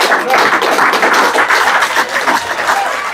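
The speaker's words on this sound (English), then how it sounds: "Give a round of applause." Studio audience applause on a TV talk show, a dense, steady wash of many hands clapping at close range that holds for about three seconds.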